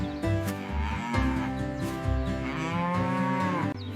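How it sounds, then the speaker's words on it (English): A cow on a farm lowing in one long, loud, drawn-out moo that wavers in pitch and fills the whole span, with no talk over it. "A cow is a big farm animal that gives us milk."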